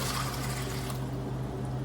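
Water poured into a mixing bowl as the first liquid for straight dough bread mixing, a steady close rush of liquid over a low hum, strongest at first and then easing off, with no talk.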